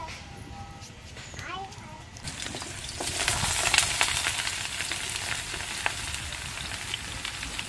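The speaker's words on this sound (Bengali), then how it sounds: "তো প্রথমে আমি এই যে আলু, পটল এইগুলো ভেজে নেবো।" Potato and pointed gourd pieces dropped into hot oil for a Bengali vegetable curry, with a sizzle that swells and holds steady at close range while someone speaks over it.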